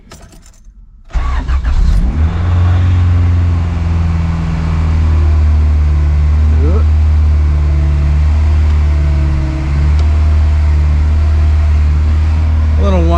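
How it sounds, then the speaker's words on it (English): A Honda Integra engine cranks and catches after a second of near silence, then settles into a loud, steady idle with a persistent whine from a power steering pump running with air still in the line. "we'll start it up and hopefully the power steering pump doesn't blow up"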